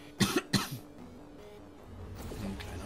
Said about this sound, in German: Ein kleiner Huster.